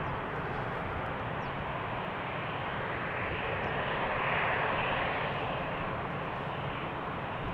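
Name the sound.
airplane departing Polderbaan runway at Amsterdam Schiphol Airport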